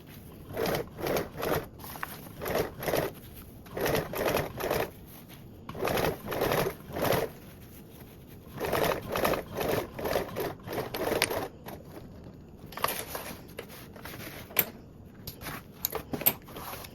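Sewing machine stitching an elastic pocket onto a fabric panel of a duffle bag, running in short repeated bursts with pauses between, fairly close and moderately loud with no talking.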